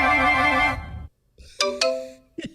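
A mobile phone ringtone plays loudly in a short melodic burst and stops abruptly. After a brief silence come a few sharp, bright chiming notes.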